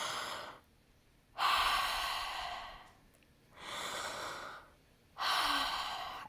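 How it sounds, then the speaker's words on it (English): Deep calming breaths taken up close, three long airy inhales or exhales separated by quiet pauses, slow and rhythmic with no talk over them. "we put our hands on our tummy and we take a deep breath"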